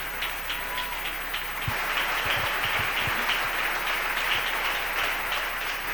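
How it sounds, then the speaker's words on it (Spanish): A church congregation breaks into sustained applause during a Spanish-language sermon, a dense, steady wash of many hands clapping that fills the room at an even level with a few sharper claps standing out. "Dele un aplauso al Señor."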